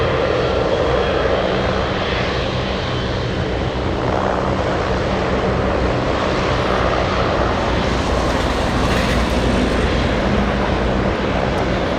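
A propeller airplane taxis toward runway 25 at Anchorage airport on a windy day, its engine a steady, loud, close drone holding constant throughout, with wind noise and no talk.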